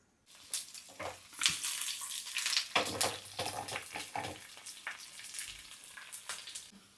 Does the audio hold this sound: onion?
yes